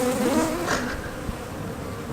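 Bees swarm and buzz around an opened beehive during a spring checkup, a close, continuous droning hum with individual insects passing near.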